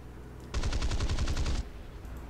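Rapid burst of about ten machine-gun shots fired in War Thunder, loud and evenly spaced, lasting roughly a second before cutting off to quiet background.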